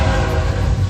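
A train at a park in Marceline produces a loud, steady rumble with faint higher tonal layers, continuous across the whole brief moment.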